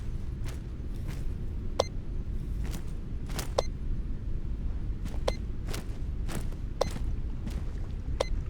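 A faint, regularly pulsing tick or ping from a nearby artifact in the VR game Into the Radius 2, sounding roughly every second or so as short bright clicks over a steady low background rumble, with no talk.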